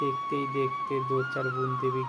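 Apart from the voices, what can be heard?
No distinct noise like a dog, phone or traffic.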